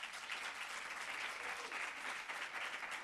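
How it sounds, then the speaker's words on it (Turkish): Closing-ceremony audience at the IV. TIUF 2013 event claps for the organizing team, a continuous, dense wash of hand clapping that stays even and fairly close from start to finish. "alkış rica ediyorum"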